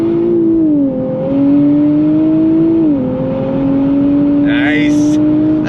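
A 2026 Nissan Z Performance engine drones steadily on throttle, a loud close-up interior hum that holds pitch with small dips as gears or load shift, while a voice talks briefly over it.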